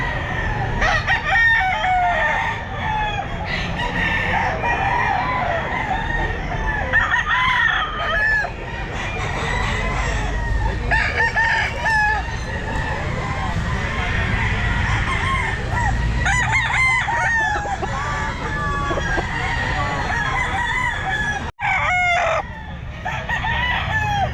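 Roosters crow repeatedly at a busy outdoor pet market, several birds calling near and farther off amid clucking and general crowd bustle, loud throughout.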